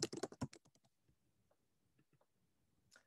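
Quick burst of clicky keystrokes on a computer keyboard as a query goes into a search bar, a dense flurry at first, then a few sparse, faint taps and one last key press, with no voices.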